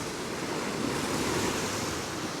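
Continuous roar of sea waves and swell on a remote Highlands coast of Scotland after a strong northerly wind, a broad steady wash of surf with some wind noise, no voices or distinct breaks.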